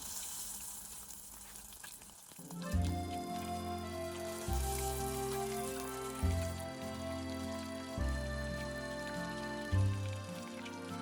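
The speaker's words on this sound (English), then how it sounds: "Continue frying the remaining." Vietnamese spring rolls fry in hot oil with a constant crackling sizzle, under a low rhythmic background hum that pulses every couple of seconds.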